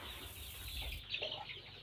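Young chicks in a brooding setup cluck and peep in a few short, soft bursts against a faint background hiss.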